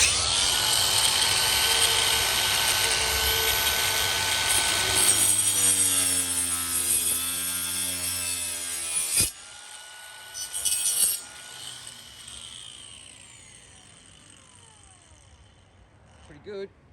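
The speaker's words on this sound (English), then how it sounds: "Let's get our timber grinding disc all ready to go." A timber grinding disc trims moulding on a wooden swing gate, a loud high whining grind that runs for several seconds, drops in pitch as it bites, then cuts out and winds down with some rattling handling noise.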